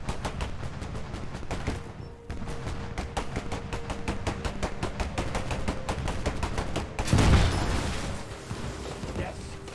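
Sustained automatic gunfire in the video game Squad, with rapid, evenly spaced shots rattling close and loud for several seconds, then a heavier burst near the end.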